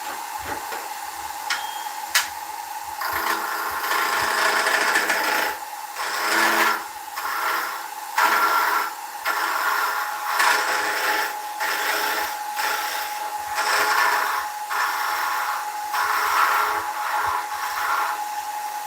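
A woodturning lathe spins at full speed with a continuous whirring hum, overlaid by uneven fluttering and rattling pulses that rise and fall throughout.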